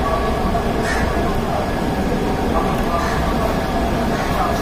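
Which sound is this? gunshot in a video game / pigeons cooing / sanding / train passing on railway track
train passing on railway track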